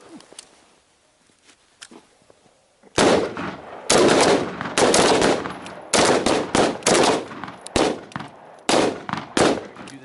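Rifle shots crack out at a night shooting range, quiet at first, then a loud rapid series of sharp reports in clustered bursts of two to four rounds.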